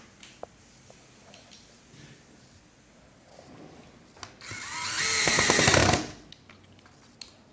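A power drill drives pointy screws while a Kwikset 888 smart lock deadbolt is installed, one short rising whir of a few seconds near the mic, with quiet handling clicks before and after.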